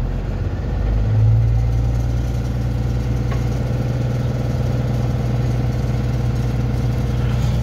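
A school bus engine idles steadily nearby, a loud, continuous low rumble with a slight rise in pitch early on before settling back into an even drone.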